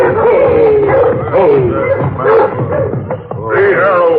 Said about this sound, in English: But the village dogs raised the alarm